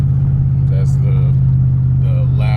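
A 2008 Ford F150 pickup with a loud aftermarket muffler drones on a test drive, its deep exhaust rumble steady and close throughout, with brief voices and cabin noises over it.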